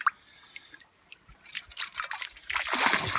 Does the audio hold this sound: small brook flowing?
yes